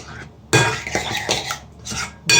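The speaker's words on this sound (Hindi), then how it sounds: "अब इसमें मिक्स कर लेते हैं इसको।" Salt being stirred into a bowl of pumpkin raita, a spoon clinking and scraping against the bowl in several close, uneven bursts with short pauses.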